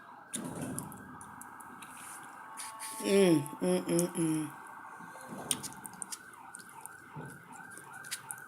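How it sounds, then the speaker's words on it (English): An ambulance siren wails outside, its rising and falling tone muffled behind closed windows, with a person talking nearby over it. "Sorry if y'all hear the sirens in the background."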